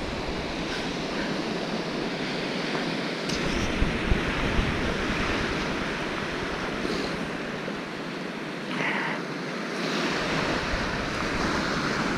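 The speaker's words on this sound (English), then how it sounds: "Waves." Lake waves wash and lap against the shore close by, a steady rushing surf with wind buffeting the microphone and no voices.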